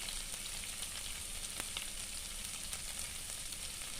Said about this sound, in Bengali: আমি জিরাটা দিয়ে আবার একটু ভালো করে ভেজে নিচ্ছি